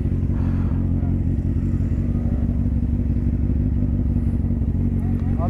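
A motorcycle engine runs close by in a steady, loud, throbbing idle with a dense low rumble and little change in pitch throughout, during a riders' group training session.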